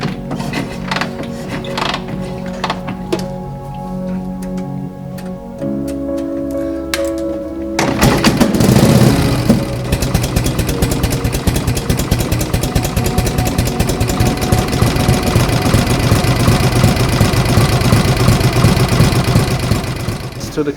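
A 1958 Harley-Davidson Duo Glide with a Panhead engine: quiet at first, then the engine fires and runs loud and steady with a throbbing idle for the rest of the clip.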